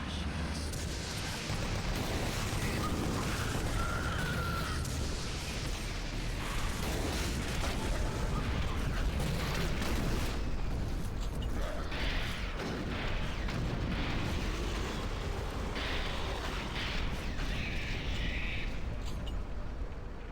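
Explosions and heavy weapon blasts in the shooter game Doom 3, repeated booming bursts over a dense, loud rumbling backdrop lasting the whole stretch, with a little game noise between blasts.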